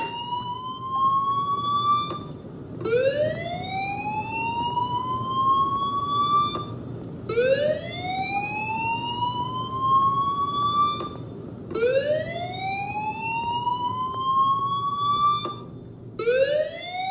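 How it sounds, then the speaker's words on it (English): A fire alarm in the video game Life is Strange wails in a repeating rising siren tone, each sweep lasting about four seconds and looping steadily with no talking. "Hey, do you hear that fire alarm?"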